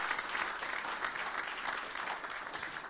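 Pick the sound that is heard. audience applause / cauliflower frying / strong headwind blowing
audience applause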